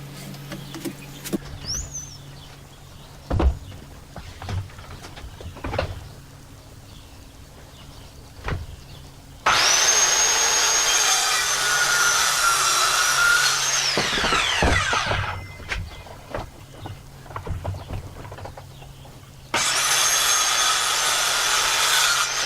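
A power saw cuts through the wood of a bunk bed in two loud, sustained passes, with a steady high whine between quieter stretches of knocks and shifting wood.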